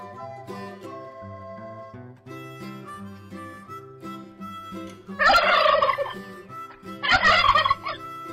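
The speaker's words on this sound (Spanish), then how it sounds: "Turkey." A turkey lets out two loud, rapid gobbling bursts in the second half. Cheerful music plays underneath throughout.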